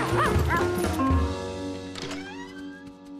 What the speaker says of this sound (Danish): Da han hørte hende gø